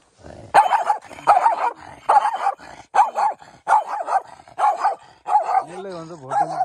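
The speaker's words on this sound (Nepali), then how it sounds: "होइन यो भोटे कुकुर हो" A Bhote, a Himalayan mountain dog, barks repeatedly in a steady series of sharp, close barks, ending in a whining, wavering yelp.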